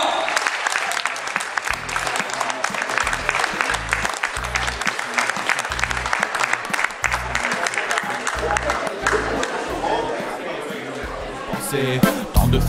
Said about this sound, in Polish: Wielkie brawa!